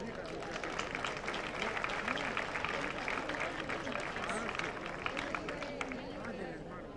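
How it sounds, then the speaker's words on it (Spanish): Faint audience applause for a regional welfare councillor at a tribute event for elderly people, with dense clapping mixed with crowd babble and voices throughout. "Un fuerte aplauso para ella."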